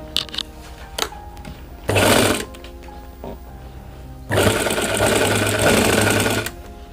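A sewing machine runs a seam on a gent's kurta in two loud, close bursts of rapid stitching, a short one and then a longer steady run, with quiet clicks and handling between them.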